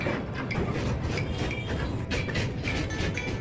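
Netaji Express LHB coaches cross the Yamuna river bridge near Delhi: a loud, continuous rumble with rhythmic clanking and rattling wheels on the rails, heard from inside the train.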